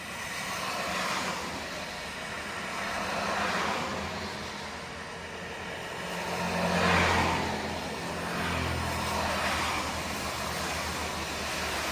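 A goods vehicle drives along a road in light rain, a steady low rumble of engine and tyre noise that swells and fades in slow waves, with passing hiss, no talk.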